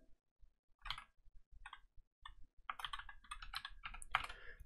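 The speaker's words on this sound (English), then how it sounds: "So first we're just going to type MVP create" Keystrokes patter on a computer keyboard while a server command is typed, a few isolated taps at first, then a quicker run of clicks, close and crisp with no talk.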